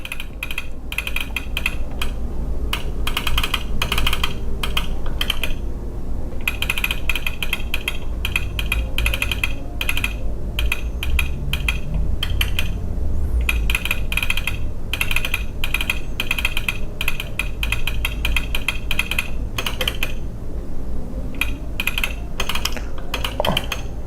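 Close, steady clicking of fingers typing on a computer keyboard while fader names are entered in lighting-control software, running continuously with a few brief pauses and no talking.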